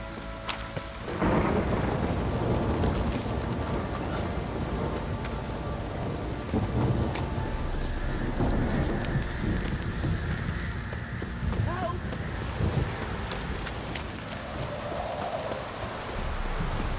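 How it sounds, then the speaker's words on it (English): Heavy downpour in The Witcher 3, a dense continuous roar of rain with deep rumbling thunder rolling through, loud and sustained, with a voice speaking briefly over the storm. "This downpour's a fucking shit."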